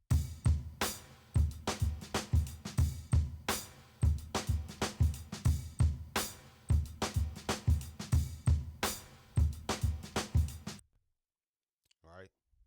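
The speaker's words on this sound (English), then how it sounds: "the drum break sounds like this" A sampled drum break for a hip hop beat plays a punchy, looping groove of kick, snare and hi-hat hits with a bouncing rhythm, then stops into near silence with a brief faint sound at the end.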